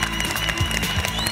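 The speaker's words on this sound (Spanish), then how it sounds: "Un aplauso para los Zapata" Studio audience applauding on a Bolivian game show, a brief burst of dense, continuous clapping heard close and fairly loud.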